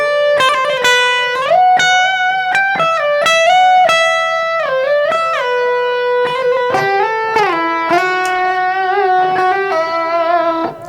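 An electric guitar plays a riff in A Dorian, loud and up close: a run of quick picked notes with bends and slides, with some notes ringing on, and no voice.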